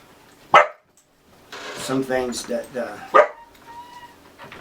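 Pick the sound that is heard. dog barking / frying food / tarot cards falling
dog barking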